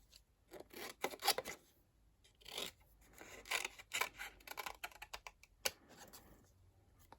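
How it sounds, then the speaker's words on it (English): Scissors fussy cutting paper flowers for a handmade card, a quiet series of short, crisp snips and rustling paper strokes in uneven bursts, close up with no voice. "So we need to fussy cut these flowers out."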